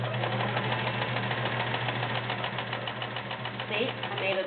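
A heavy-duty Kenmore 1430 sewing machine stitches through six layers of denim with a steady, fast mechanical whir and rapid needle chatter, running continuously up close.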